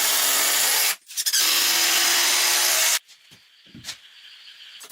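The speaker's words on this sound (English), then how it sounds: "Small wooden supports are being attached to the wall with a drill to firmly hold the shelves" A power drill drives small wooden supports into a wall to hold shelves, in two loud sustained bursts of whining motor noise separated by a short pause, then a few fainter clicks and knocks as it stops.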